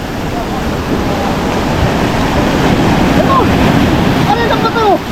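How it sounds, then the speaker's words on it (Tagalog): Strong ocean waves crash and roar continuously nearby with heavy wind buffeting the microphone, while people talk faintly and brief squeaky calls appear near the end. "Lakas din ng alon oh."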